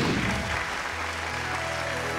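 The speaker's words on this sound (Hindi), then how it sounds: "जोरदार तालियों के साथ स्वागत करते हैं पहली परफॉर्मर की मेहनत देखने के लिए" Audience applause greeting a performer arriving on stage, a brief burst of clapping that starts loud and quickly fades as music begins underneath.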